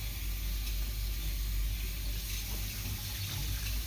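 Running water flows steadily from a tap into a barber school sink as a towel is soaked, a continuous close hiss with low rumble and no talk.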